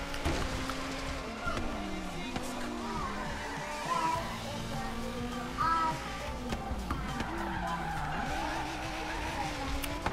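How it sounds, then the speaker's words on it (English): A car drifts with tires skidding and squealing in Forza Horizon 3, the engine droning steadily throughout, with a few brief bursts of voice over the game sound. "That was a smooth drift."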